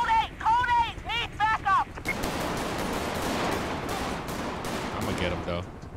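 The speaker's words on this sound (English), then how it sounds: "start shooting at these officers" Gunfire in the video game GTA 5 during a shootout with police officers, a dense sustained barrage of loud shots over a noisy scene, following a warbling siren-like tone at the start.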